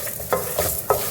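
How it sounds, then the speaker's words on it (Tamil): Grated coconut is sautéed in a hot pan, a soft steady sizzle broken by three quick scraping strokes of a spatula. "இதையும் சேர்த்து நம்ம நல்லா வதக்கி எடுத்துக்கலாம்"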